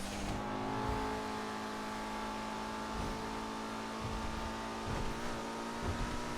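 Benefactor LRC GT sports car in GTA Online accelerating, a steady engine drone with rising revs and occasional tire noise, moderately loud, no talking.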